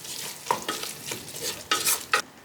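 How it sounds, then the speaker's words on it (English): Spices, chili powder and vegetables for vegetable khichdi are stirred in a pressure cooker, a close run of scraping spoon strokes over a light sizzle in short uneven bursts; no one speaks. "Stir all together for next 5 minutes"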